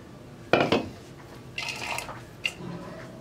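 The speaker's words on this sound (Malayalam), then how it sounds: "ഇതെല്ലാം നമുക്കൊരു ബൗളിലേക്ക് മാറ്റാം." Chopped vegetables for a Kerala thoran are tipped into a bowl, giving a few clattering scrapes and knocks of utensil against dish, close and moderately loud, in three short bursts with quiet between them.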